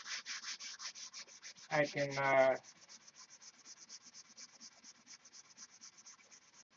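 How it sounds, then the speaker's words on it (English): Steady rhythmic hand sanding of a stunt model airplane during paint prep, quick back-and-forth strokes throughout, briefly interrupted by a short spoken word partway through. "so much of model building is sanding."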